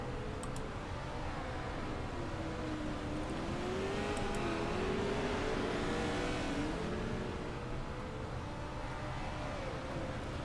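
Pro trucks race on a dirt track at Kokomo, their engines a distant, faint, wavering whine drifting under a constant wash of broadband noise, with no voices.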